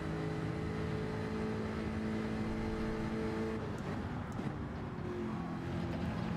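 Jaguar Group 3 race car in Gran Turismo 7, a continuous droning engine note holding steady, then shifting pitch as it changes gear partway through, moderately loud with no talking.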